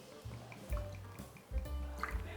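Stirling Gin glugs from its bottle as it is poured, a few short, close, hollow gulping pulses with soft liquid trickling between them.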